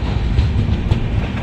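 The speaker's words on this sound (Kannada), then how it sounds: "ನಾವು ಹೊಡೋ Vasco Yeshwanthpur express Davanagere railway station ಬಿಟ್ಟಿದೆ" Vasco–Yeshwantpur Express train running just after leaving Davangere station, a steady loud rumble of wheels and carriages with faint rhythmic clatter throughout, no voices.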